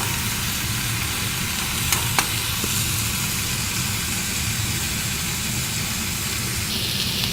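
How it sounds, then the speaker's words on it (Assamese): Dried fish chutney with tomato fries uncovered in a pan, producing a steady, moderate sizzling hiss with a few faint clinks from stirring. No one speaks. "এইখিনি অকণমান ভাজি ল'ম ভালদৰে।"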